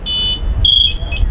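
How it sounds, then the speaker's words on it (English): A firefighter's motion alarm on his gear chirps loudly in close, shrill, high-pitched electronic bursts, with a short gap and then a longer tone, over low background rumble. "that's the full alert that basically tells us, hey, this firefighter's not moving, he's in full alarm"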